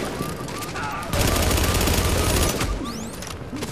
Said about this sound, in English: Being shot from behind